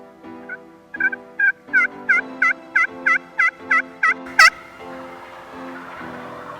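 A wild turkey tom on Michigan public land in Muskegon County gobbles in a rapid series of about a dozen loud, close, evenly spaced warbling calls, ending in one sharp, higher burst before a quieter tail.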